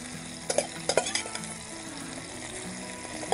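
Sausage and sweet red onions sizzle in a Dutch oven at a campsite, a close, crackling fry broken by a few sharp clacks of a utensil stirring and nestling the onions.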